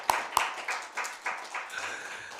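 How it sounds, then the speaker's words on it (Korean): A church congregation claps, a quiet, sparse run of hand claps: two sharp ones up front, then a loose, roughly even series of softer claps that carries on to the end. "우리 박수 한번 크게 응원하겠습니다"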